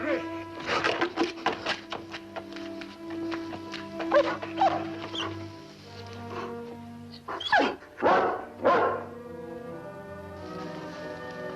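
A big dog in an old western setting barks in a rapid cluster of yips, then lets out a few separate whimpering cries, close by with no one talking over them.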